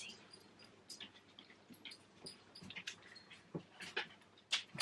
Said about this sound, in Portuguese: Isto é o meu cão a sacudir-se.